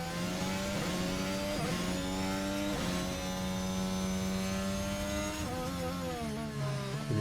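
A formula racing car at a Grand Prix qualifying session crosses the line at Abu Dhabi with a loud, sustained high-pitched engine whine whose pitch rises and shifts through gear changes, close and continuous throughout.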